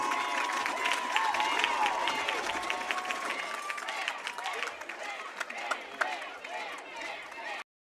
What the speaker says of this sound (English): Have a round of applause for your Hector High School band